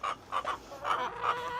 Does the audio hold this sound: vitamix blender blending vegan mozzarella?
no